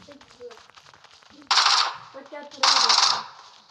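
Two loud bursts of gunfire in PUBG Mobile, each lasting about a third of a second, with quieter game sounds and faint background voices around them.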